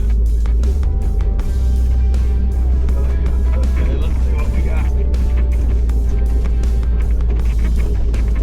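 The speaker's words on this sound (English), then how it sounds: "Oh man, it's a bumpy ride." An old Jeep Wagoneer driving a bumpy trail, its engine a loud, steady low rumble with rattles and jolts from the rough ground, close throughout, with voices speaking over it.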